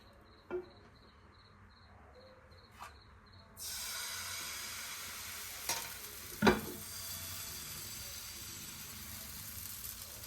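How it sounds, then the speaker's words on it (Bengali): A pan stirred before batter is added for kheer-filled patishapta: crickets chirp over quiet room tone, then a steady sizzle begins, with a couple of sharp spatula scrapes and clinks close by. "ব্যাটার দেওয়ার আগে প্রত্যেকবার এরকম করে নেড়ে নিতে হবে।"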